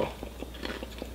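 A crisp crunching bite into a fried dessert crust with apple filling, like a fried apple pie, followed by a few soft, close chewing crunches at a steady pace, with no talking.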